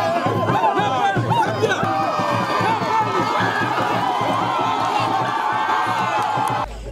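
A large crowd of subjects cheers the king, with mixed chatter, whoops and shouts forming a loud, continuous roar up close, while a voice speaks over the crowd noise until it cuts off abruptly.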